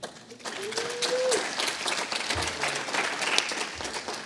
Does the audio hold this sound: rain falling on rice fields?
no